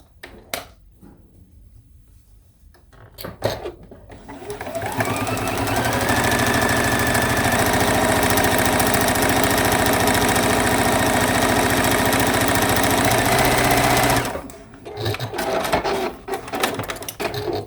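A sewing machine stitches dark selvage strips for string quilt blocks, running in one steady continuous burst of about ten seconds, with brief handling clatter before it starts and after it stops.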